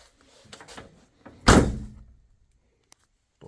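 A Buick Grand National's door swings and shuts with one loud, close solid thunk after a few lighter handling clicks, then quiet with a faint tap afterward.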